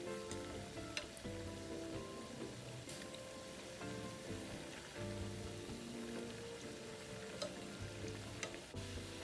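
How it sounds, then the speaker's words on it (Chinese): Balls of tapioca and jicama deep-frying in oil over medium heat make a faint, steady bubbling sizzle, with light scattered taps as they are turned, and soft music playing underneath. "粉的木薯沙葛球生坯放入油炸。"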